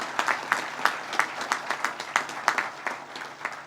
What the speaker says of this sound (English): let's give a round of applause to the entire Pegula family